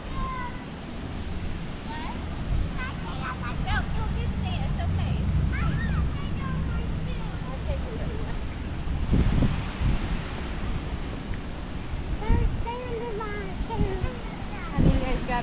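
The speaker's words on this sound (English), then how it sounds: "Look at those waves." Ocean waves wash in at a beach during a family vacation, a continuous rumbling surf under gusty wind noise on the microphone, with voices and children's calls heard over it.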